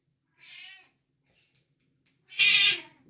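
A black cat meows twice with a pause between: a softer, short mew first, then a louder, longer, close-up meow.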